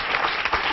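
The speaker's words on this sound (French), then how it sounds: "Le public applaudit, ils applaudissent tous" Studio audience applauding at a French television talk show, a short dense burst of clapping heard alone at moderate loudness.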